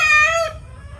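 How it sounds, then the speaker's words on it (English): A young Cochin rooster on a homestead gives one short, loud, tonal squawk lasting about half a second, then falls silent, with a low rumble of background noise throughout. "So that is my rooster."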